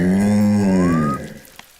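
A cartoon cow lets out a single loud, low, drawn-out moo with a tonal, voice-like quality, tailing off into quiet after about a second.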